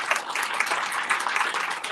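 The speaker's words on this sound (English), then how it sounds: "Let's give her a round of applause." A brief round of applause from the audience at an economic development breakfast, dense, even clapping that holds steady for a couple of seconds, with some voices mixed in.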